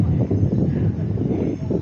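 A helicopter passes overhead at an outdoor Station of the Cross pilgrimage on a mountain peak, making a steady, loud low rumble mixed with wind buffeting across the whole stretch, with no voices.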